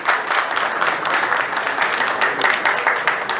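Dense, steady audience applause fills the hall as Padma ji is welcomed on stage at the launch of a music show, sustained at a constant level throughout.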